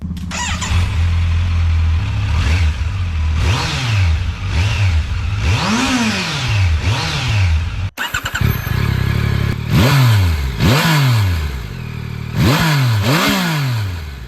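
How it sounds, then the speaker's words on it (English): A Kawasaki Z900 or Yamaha MT-09 motorcycle engine revving repeatedly in sharp bursts, loud and close, with a pause and then another run of throttle blips. "Kawi claims to have tuned their exhaust sound"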